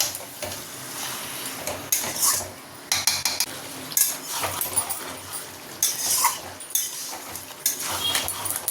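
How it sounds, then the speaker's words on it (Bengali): Chicken curry with Kashmiri red chilli is stir-fried hard in a pan, with irregular loud metal clanks and scrapes of a spatula over a low sizzle. "চিকেনটাকে বেশ ভালো করে কষিয়ে নিই"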